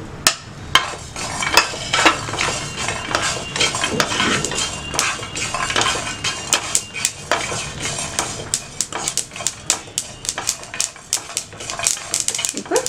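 Sesame seeds dry roasting in a pan for instant puliyodharai powder, a steady run of sharp metallic scrapes and clinks as a spoon stirs against the pan, close and busy throughout.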